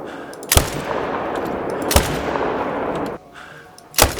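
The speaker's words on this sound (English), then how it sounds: "All right, let's shoot some Bantang." Three loud gunshots ring out at irregular intervals while hunting banteng in the video game Call of the Wild, each a sharp crack over a steady outdoor ambience.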